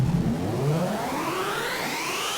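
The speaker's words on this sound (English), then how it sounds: "Arthur is just a lovely one-note riser" A single synthesizer tone from a drum and bass preset sweeps steadily upward in pitch, rising and brightening over a couple of seconds with no voices.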